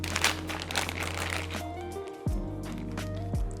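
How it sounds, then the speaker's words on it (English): Buttercream is loaded into a plastic piping bag, making short crinkling and rustling sounds close by, with a faint steady hum in the background. "I'm filling the piping bag with my buttercream"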